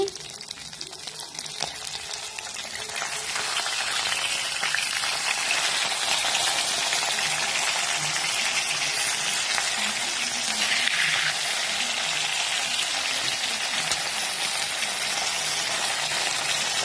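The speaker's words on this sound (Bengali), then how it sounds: "তেলে মাছগুলোকে হালকা করে ভেজে নিচ্ছি, কড়া করে মাছটা ভেজে নিচ্ছি।" Small tengra fish fry in hot oil, a dense, steady hiss of sizzling that swells after a quieter start and stays loud and close, with someone speaking over it.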